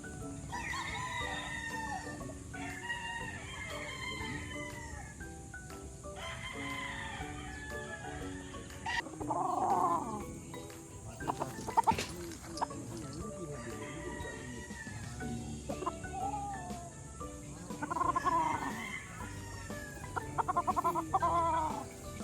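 Imported Albany gamefowl roosters at a Philippine breeding farm crow repeatedly and cluck, several birds calling near and far amid steady background noise, with someone talking over them.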